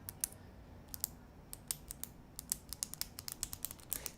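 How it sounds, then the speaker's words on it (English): Repeated sharp clicks from the spring-loaded eject mechanism of a Samsung Galaxy Note 5 S Pen, clicked over and over in quick irregular bursts, close up and crisp against a quiet background. "Samsung built in a clicking mechanism in the pen for getting it out"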